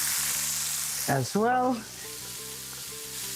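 Onion frying in good oil in a pan, the start of a spicy lobster linguine, sizzles steadily throughout while someone talks briefly over it in the middle.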